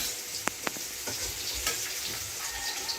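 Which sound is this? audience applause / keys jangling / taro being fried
taro being fried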